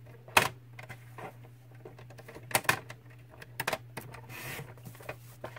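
Paper is trimmed with a paper cutter for a gift box, giving a few sharp, crisp slicing strokes and clicks spaced over a few seconds against a faint steady hum.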